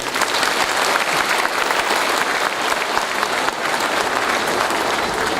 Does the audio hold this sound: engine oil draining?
no